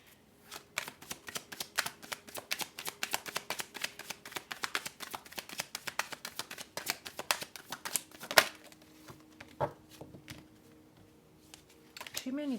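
Tarot cards being shuffled by hand, a long run of rapid crisp riffling flicks up close, then a few louder slaps and taps as the deck settles.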